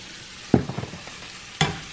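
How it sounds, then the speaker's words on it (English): Honey and cinnamon in a pan for granola give a soft sizzle with a couple of sharp stirring scrapes, quiet and close, with no talking. "All right, that sizzle. The cinnamon while the honey is in."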